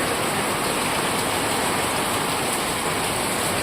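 Heavy rain falls steadily outside, a dense, loud, unbroken hiss of drops with no talk and no pauses.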